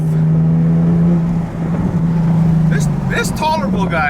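A Nissan 370Z Nismo engine hums steadily from inside the car as it is driven and shifted down from third into second, with a brief dip during the shift followed by a rising rev, loud and close.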